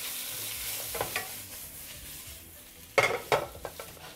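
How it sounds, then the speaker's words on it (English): Pork browns in a pan with a soft, steady sizzle broken by a few clinking scrapes and stirring knocks, fairly close and moderately quiet, without any voices. "You'll need to brown the pork a little, get rid of the excess fats so that the dish will have this beautiful aroma."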